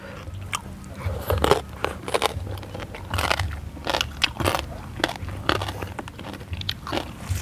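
Repeated crisp bites into thick, crunchy fried pork belly skin, close and loud, with crackling crunches and chewing between bites; no talking.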